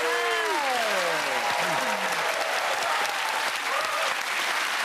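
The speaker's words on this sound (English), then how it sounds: "that round of applause to the Glen Moore" Studio audience applause at a British comedy panel show, a loud, steady wash of clapping filling the whole stretch, with a few overlapping voices and whoops riding on top early on.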